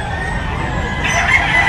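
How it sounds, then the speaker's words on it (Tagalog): Roosters cackle and crow at a Filipino gamefowl farm, loud and close over a dense bed of farmyard clucking and background noise. "pakita na natin yung manok ni Bossing"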